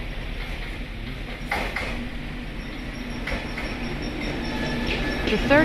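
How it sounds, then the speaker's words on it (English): A rapid train bound for Nogata in Fukuoka Prefecture runs along the rails with a continuous rumbling roar, scattered clanks, and a rising wheel squeal at the end. "The third train I will be taking on this journey is the rapid train bound for Nogata."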